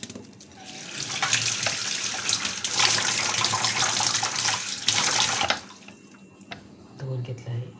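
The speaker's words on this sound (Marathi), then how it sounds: "धुवून घेते मी स्वच्छ." Tap water runs steadily into a kitchen sink as vegetables are rinsed clean, a broad continuous splash that drops away near the end, with a few faint drips and handling sounds after.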